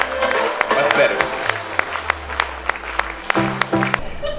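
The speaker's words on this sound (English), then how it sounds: "the biggest round of applause for the master of the MSC Virtuosa, Michele Di Mauro" Scattered claps from a cruise ship audience greeting the captain of the MSC Virtuosa at a gala evening, sharp irregular hand claps spread through the clip with a low murmur of voices behind.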